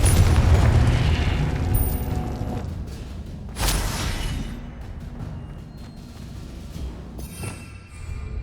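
Fiery blasts from the Confringo spell in the Hogwarts Legacy video game: a loud rumbling boom at the start, then a second sharp burst that fades into a lower crackling tail, with no speech.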